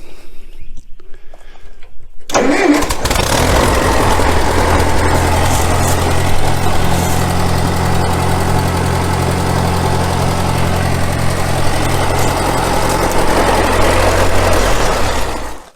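A 1954 Ferguson TO35 tractor engine cranks and catches after a quiet moment, then settles into a loud, steady close-up idle with a regular low thumping beat, without talk.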